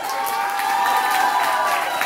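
A cumbia audience cheers and claps for a young performer, a steady crowd roar of whoops and applause under a faint sustained musical tone, moderately loud and even throughout.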